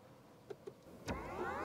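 A BMW iX1 electric car plays its start-up welcome chime inside the cabin: two soft tonal blips, then a brighter swelling tone that holds steady to the end, clear and close with no talking.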